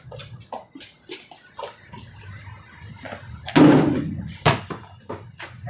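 A basketball bounces and thuds during a home catch-and-shoot drill, with scattered sharp thumps and a loud clang-like impact midway as the shot misses, followed by further bounces.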